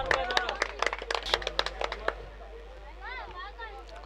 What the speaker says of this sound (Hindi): बढ़िया तालियां।